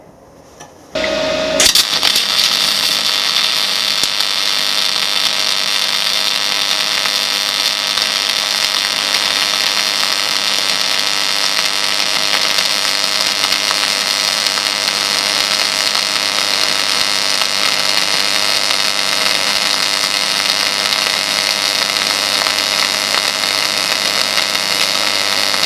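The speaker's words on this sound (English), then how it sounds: "I'm going to weld one side with MIG on 180 amps and the other side with stick and 160 amps" A MIG welder lays a single pass on a steel T-joint at 180 amps, starting after a short click and then hissing and crackling steadily and loudly for over twenty seconds without talk.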